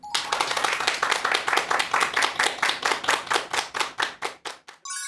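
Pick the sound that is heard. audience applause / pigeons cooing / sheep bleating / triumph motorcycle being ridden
audience applause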